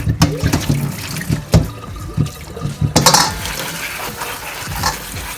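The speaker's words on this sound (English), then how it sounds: "What I like to do is I like to just go in when I'm like rinsing them off, put them back" Water runs and splashes as bok choy is rinsed in a sink, an uneven wash of pouring and clattering with leaves being handled, fairly close and continuous for several seconds.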